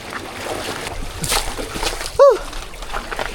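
Feet splash through rising seawater around a small island at low tide, with scattered sloshing near and a sudden sharp cry partway through, and people speak briefly.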